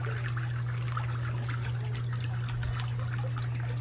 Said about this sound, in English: you want to hear the waterfall trickling